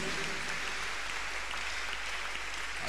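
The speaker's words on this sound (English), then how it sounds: "Clap your hands unto God of Choosing." A church congregation at a Tuesday miracle service claps hands together, a dense, even patter of applause sounding somewhat distant and steady throughout.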